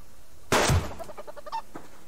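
A chicken in the Subsistence survival video game lets out a loud squawk, followed by a short run of quieter clucks at close range, with no talking.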